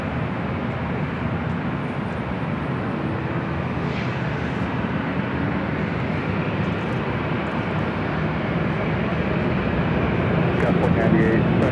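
A jet airliner arriving at LAX roars loudly and steadily, a broad continuous engine rumble that swells slightly toward the end.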